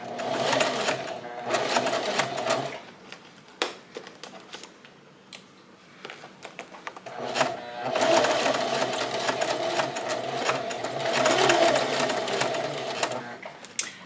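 A sewing machine top stitches a zipper sewn on a curve, running in fast steady bursts with a pause in the middle, close and clear, with a few faint clicks between runs.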